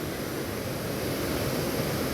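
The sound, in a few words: Ethipothala waterfall near Nagarjuna Sagar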